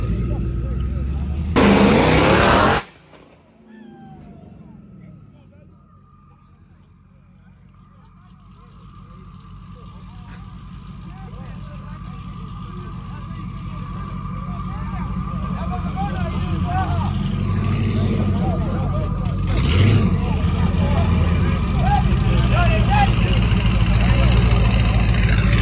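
A Jeep Trackhawk and a twin-turbo Ford F150 idle at a drag race, a heavy, steady engine rumble that slowly builds in loudness, with a brief loud burst early on and crowd noise in the background.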